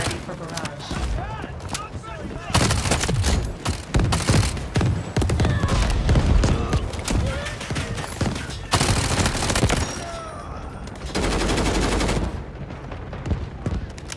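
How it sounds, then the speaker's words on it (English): An artillery barrage in the video game Delta Force: Hawk Ops unfolds as bursts of heavy gunfire and booming impacts, loud and close, with dense volleys broken by short lulls and voices talking over parts of the action. "Artillery ready for barrage."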